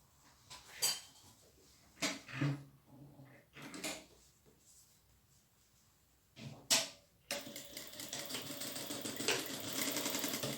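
A domestic sewing machine stitches fabric during a simple creative sewing project, first in several short separate bursts, then running steadily and loudly for the last few seconds, with no talk.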